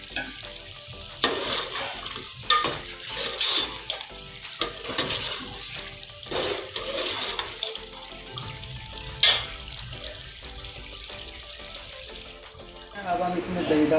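Green chilies fry in a pot with potato chicken curry while a spoon stirs them, bursts of sizzling and scraping with clatter and uneven pauses, close and moderately loud throughout.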